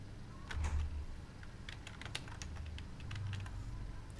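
Quiet, irregular clicks of typing on a computer keyboard, with a few scattered keystrokes and short bursts over a low steady room hum. No one speaks.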